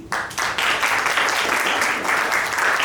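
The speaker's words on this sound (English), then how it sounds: "I would like to hear a huge round of applause for all of you" Audience applause for quiz participants at a Constitution of India quiz in Goa breaks out after a brief pause and holds as a dense, sustained clatter of many hands in a room.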